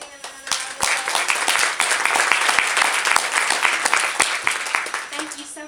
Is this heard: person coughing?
no